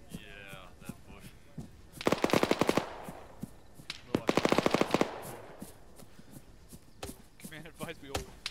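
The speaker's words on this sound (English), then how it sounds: "Taking fire, there's a shooter" Rapid automatic gunfire in the video game Morale: Shattered, two sharp, loud bursts of quick repeated shots separated by quieter stretches, with scattered single shots near the end.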